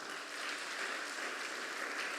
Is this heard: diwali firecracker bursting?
no